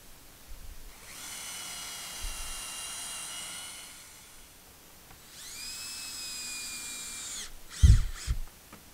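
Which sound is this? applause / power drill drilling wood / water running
power drill drilling wood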